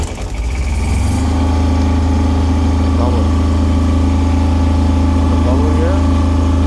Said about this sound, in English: how to start the genset